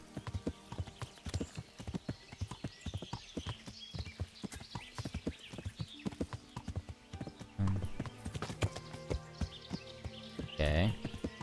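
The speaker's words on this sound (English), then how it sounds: "good thing now we have a horse" Horse hooves clip-clop steadily in Kingdom Come: Deliverance, a close, rhythmic series of rapid hoofbeats with a brief whinny-like burst near the end.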